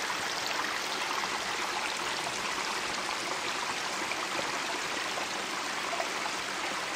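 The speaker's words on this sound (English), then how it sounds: "there's a big waterfall" A big waterfall along a hiking trail pours down in a continuous broad roar of rushing, splashing water, steady and close, with no voices or other sounds over it.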